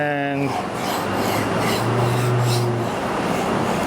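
A knife blade rasps back and forth across a 20,000 grit whetstone, giving a continuous, close scraping hiss with a faint ringing whine running through it.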